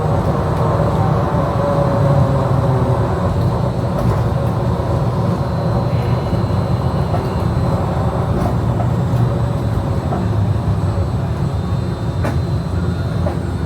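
Inside a Disneyland monorail gliding toward Downtown Disney Station: a loud, continuous rolling rumble with a steady hum and faint high whine, unbroken throughout.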